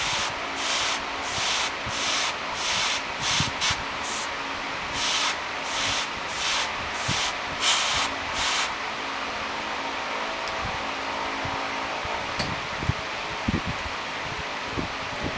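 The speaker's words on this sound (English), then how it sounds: "Spraying from the top down." Copic airbrush spraying paint onto a figure, a steady close hiss broken into quick rhythmic pulses for the first half, then settling into continuous soft spraying with faint handling clicks.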